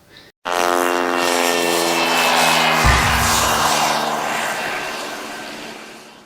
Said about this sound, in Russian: Сегодня хочу рассказать вам о своем опыте полетов в помещении на дроне Capsan Zina 2+